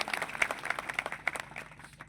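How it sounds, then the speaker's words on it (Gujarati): A crowd at a village political rally in Dharampur, Valsad, claps for a district leader, a fairly sparse, quick patter of hands that fades away over about two seconds at a distance. "કમલેશભાઈ પટેલ માટે પણ એકવાર જોરદાર તાળીઓ થઈ જાય મિત્રો"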